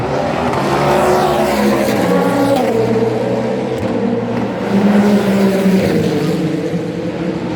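Race car engines roar and drone continuously at the 2023 24 Hours of Le Mans, rising and fading as cars pass at speed, loud and close with no talk.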